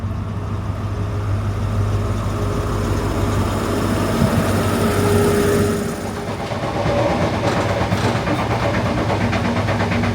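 Passenger ride aboard GWR train 43198 from Truro toward Liskeard: a loud, constant rumble of wheels and engine fills the carriage, with rattling rail clatter building midway.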